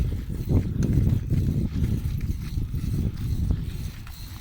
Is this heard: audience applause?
no